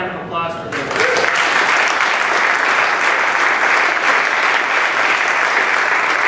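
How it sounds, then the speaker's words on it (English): An audience at a mobile-health panel event breaks into loud, sustained applause after a brief moment of talk, and the clapping stays dense and even through to the end. "how about a round of applause for them?"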